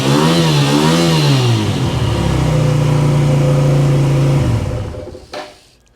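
Nearby, a Honda VL250 motorcycle engine fires up, revs unevenly, then settles into a steady idle before cutting off abruptly near the end, with no talking.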